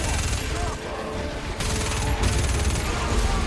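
Turrets in the video game Starhawk fire a dense, continuous barrage of rapid gunfire with booming blasts mixed in, loud and unbroken throughout.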